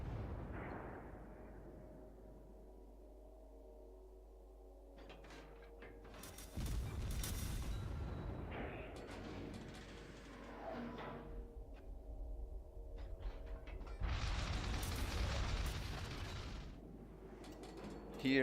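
Naval guns boom from a cruiser in the World of Warships video game, with heavy broadband blasts over a steady low engine rumble, mechanical creaks and clicks, and a few separated loud volleys through the stretch.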